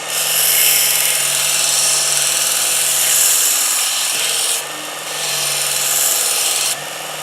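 A Baldor bench grinder at minimum speed rough-grinds the outer edge of a farrier's hoof knife, giving a loud, steady abrasive hiss over the motor's hum that eases briefly twice as the blade is lifted away.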